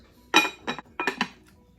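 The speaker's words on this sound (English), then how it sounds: "Going to cover the pot." Metal lid set onto a cooking pot of collard greens on the stove, giving a few quick close clinks and rattles as it settles, with no voices.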